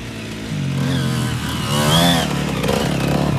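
A motorcycle engine revs and accelerates hard with a steady, loud mechanical drone that rises in pitch partway through, as the rider pulls out of a rut during a riding coaching session.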